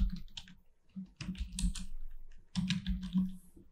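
Bursts of clicking keystrokes on a computer keyboard, typing in quick clusters with short pauses between, close and fairly quiet, with no talking.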